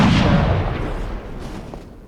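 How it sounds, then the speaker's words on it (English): A single loud, booming rifle report from a .50 BMG caliber rifle in the survival video game 7 Days to Die, with a heavy low-end thump that fades out over about two seconds. "How about we put a 50 BMG cal bullet through this rabbit."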